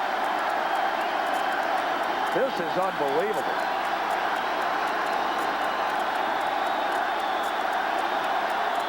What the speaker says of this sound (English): You wonder if the crowd noise isn't a little overwhelming right now